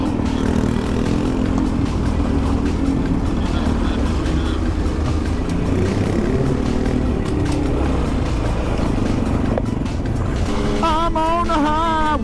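A Honda Grom motorcycle rides along a highway, its small engine droning steadily with loud wind rush throughout, and a rising-falling whine near the end.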